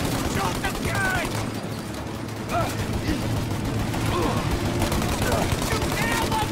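Rapid automatic gunfire rattles in a shootout in Mafia: Definitive Edition, with dense, continuous bursts and sharp cracks layered over one another and voices shouting underneath.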